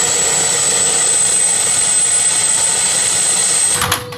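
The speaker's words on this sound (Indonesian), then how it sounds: "Wah, yang warna hijau ini ada helikopter." A green toy helicopter gives off a loud, steady electronic rotor whir with a thin high whine, running alone before cutting off abruptly near the end.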